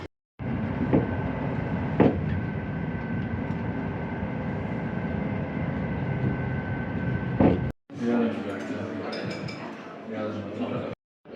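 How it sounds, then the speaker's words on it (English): A steady rumbling roar of a passenger train rolling along rails in Poland, with occasional clanks, then a cut to a different interior noise with faint clinking. "It will be a 3-hour train ride for what, 10 bucks?"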